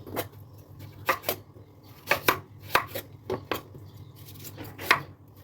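Vegetables for ginisang gulay being chopped with a knife on a board, a close series of crisp sharp taps in irregular bursts over a low background hum, no talking.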